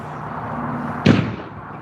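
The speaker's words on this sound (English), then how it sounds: "They got these air cannon things that scare the birds." An electric air cannon bird scarer at a fishing lake fires once, a single sharp, loud boom that rings briefly and fades over a steady outdoor background hum.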